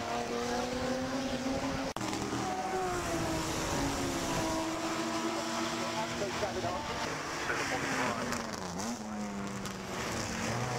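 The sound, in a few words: Ferrari 250 Le Mans and Lister-Jaguar racing at Goodwood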